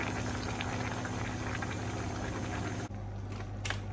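Water bubbles at a rolling boil in a cooking pot, a dense continuous seething roar with a low steady hum beneath, close and alone.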